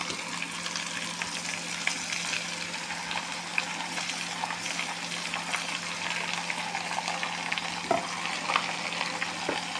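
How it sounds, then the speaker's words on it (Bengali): Marinated meat with lemon juice is stirred and fried with onions in a pan, giving a steady close sizzle with scraping stir noises throughout. "এটা সুন্দর করে এখন আমি নাড়ে দিব। আমি কিন্তু নাড়ে দিচ্ছি, একদম পেঁয়াজের সাথে সব মিশিয়ে দিচ্ছি।"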